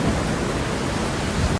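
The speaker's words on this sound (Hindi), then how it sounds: "बारिश लगातार होते ही जा रही थी।" Heavy, continuous rain beside a riverside house, a dense steady hiss of downpour filling the short moment without pause, with a brief thud near the end.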